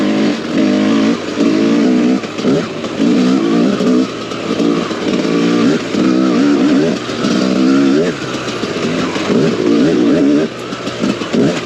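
A 2022 TM EN300 fuel-injected motorcycle engine rides a dirt trail, its loud, steady two-stroke drone rising and falling in repeated bursts of throttle and revving, close and continuous with no talk.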